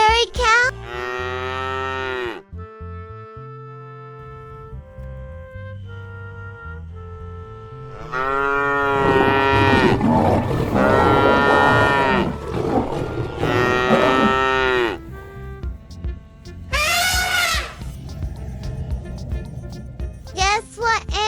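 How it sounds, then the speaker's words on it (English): A dairy cow moos loudly several times, each long, deep call separated by pauses, with a voice speaking briefly between them. "Dairy cow?"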